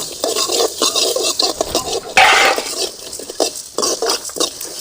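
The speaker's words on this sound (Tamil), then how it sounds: "நல்லா கருவாறு வறுத்துக்கணும் நல்லா பொரியுது" Dried fish frying in a pan with fenugreek and fennel, crackling and sizzling steadily while a utensil stirs and scrapes against the metal in quick, uneven bursts, close and fairly loud with no talking.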